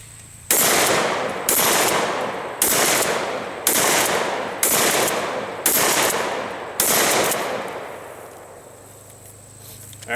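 Remington 870 Police Magnum 12-gauge pump shotgun fired at steel targets outdoors: seven loud, evenly spaced booming shots, each ringing briefly before the next, then quiet.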